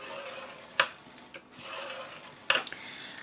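Paper for a box top being scored along a marked line, heard as a few brief, sharp scraping strokes with soft rubbing in between, close and fairly quiet.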